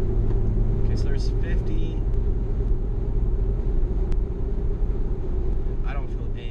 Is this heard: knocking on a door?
no